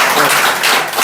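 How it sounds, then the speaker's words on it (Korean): Church audience breaking into applause, a dense burst of clapping from many hands filling the room briefly. "박수 한번 주세요"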